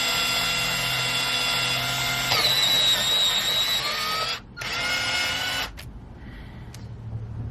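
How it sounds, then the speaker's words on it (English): An electric pencil sharpener grinds a coloured pencil in a loud, close, whining buzz that shifts pitch midway, stops briefly, runs again, then cuts out to near quiet. "I've never had an electric sharpener before"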